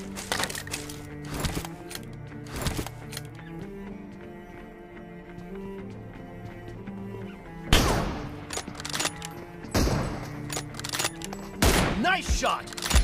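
Sharp, loud gunshots crack out in PUBG during an M24 one-on-one, isolated shots and short bursts with pauses between them over a game background.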